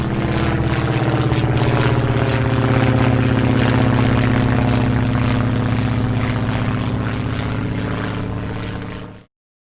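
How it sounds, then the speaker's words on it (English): A propeller airplane drones steadily and loudly for about ten seconds with a constant engine hum. It fades slightly toward the end. "This is the sound an airplane makes."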